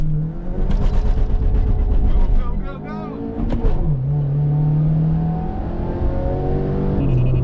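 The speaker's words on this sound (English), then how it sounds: "I could just step on the gas and go without experiencing any delay in acceleration" A Honda Fit GK5 fitted with a Pedal Commander throttle controller accelerating, with the engine rising in pitch through gear changes, loud and close from inside the car, with talk over the engine.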